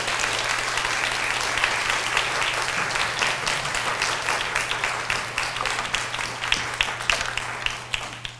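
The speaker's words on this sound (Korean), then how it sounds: "우리 큰 박수, 주님 앞에 영광 돌립니다." Congregation applause at a Saturday dawn church service, sustained even clapping from many hands over a low steady hum, gradually thinning toward the end.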